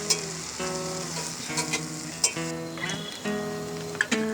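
Mushrooms for tostadas sizzling in a pan on a Weber charcoal grill on a rooftop, a steady close frying hiss with light scraping and stirring, behind a bed of soft background music.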